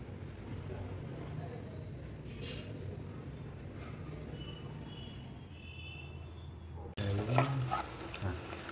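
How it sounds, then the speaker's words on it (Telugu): Onions, green chillies and garlic frying in oil for an egg and dried prawn curry, a steady close sizzle running throughout and growing louder and busier near the end as the pan is stirred. "ఈ 3 వేసుకుని కొంచెం ఫ్రై చేసుకోవాలి"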